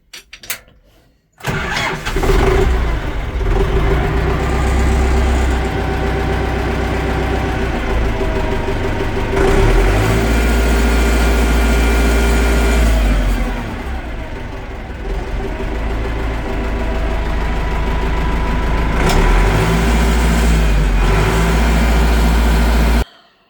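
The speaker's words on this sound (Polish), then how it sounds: "Jak zaprezentowałem silnik nie dymi, ładnie, równo chodzi." An Ursus 912 tractor's engine cranks and fires up after a short silence, then runs loud and steady at close range, its level dipping briefly midway before returning to an even, continuous rumble.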